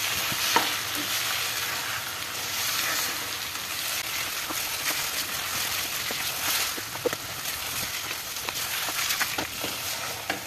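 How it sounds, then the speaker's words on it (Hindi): Chopped walnuts frying in a jaggery and semolina halwa while being stirred in a pan, a steady soft sizzle with scraping strokes of the spoon, close and fairly quiet, no talking. "अब आखिर में हम इसमें कुछ कटे हुए अखरोट डाल देंगे या जो भी ड्राई फ्रूट आपको पसंद हो आप डाल सकते हैं और इसको मज़ीद 5 मिनट तक पका लेंगे ताकि ड्राई फ्रूट्स भी इसमें फ्राई हो जाएं"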